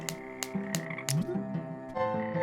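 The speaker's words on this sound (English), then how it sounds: "I also hear frogs." Frogs croak in the video game Frogmonster, several steady rhythmic calls repeating and overlapping, moderately loud against a soft game ambience, with no talking.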